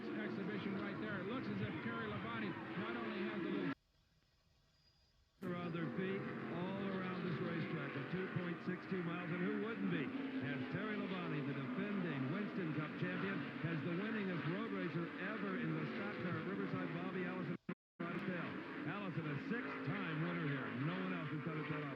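NASCAR stock cars racing at Riverside in 1985, engines roaring and whining continuously with shifting pitch as cars pass, heard through a broadcast with commentators talking over it and a brief dropout.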